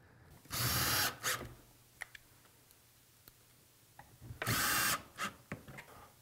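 A power driver runs a pin-head screw into a pocket screw groove during cabinet assembly, two sustained whirring bursts of about half a second each, separated by a few sharp clicks and taps.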